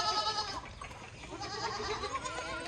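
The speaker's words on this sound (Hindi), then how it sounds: "ठीक है, ये बच्चे वाली बकरियाँ" Goats with young kids bleat on a Rajasthan goat farm, wavering cries overlapping one after another at moderate distance, fairly faint against a quiet background.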